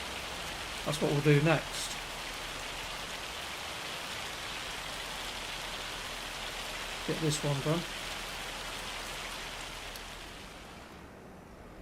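Steady broadband rain hiss in the video game Farming Simulator 25 fills the background throughout, fading at the end, with two brief bursts of speech over it.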